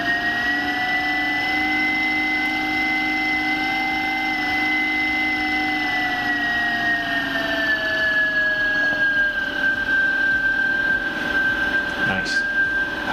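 A Timemore Sculptor 078 coffee grinder motor spins up toward maximum RPM, a loud, smooth, steady whine with clean tonal harmonics that glide slightly lower midway, running alone and unbroken at close range.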